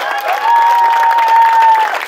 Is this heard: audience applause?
yes